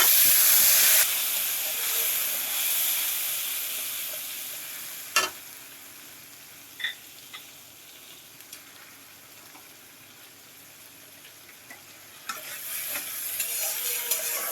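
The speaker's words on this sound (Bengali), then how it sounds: "মশলাটা একটু ভাজা ভাজা হয়ে যাক" Spice paste sizzles steadily in hot oil with asafoetida as it is stirred for a pointed gourd curry. Scraping stir strokes and a few sharp clicks from the pan sit over the continuous frying hiss, and no one speaks.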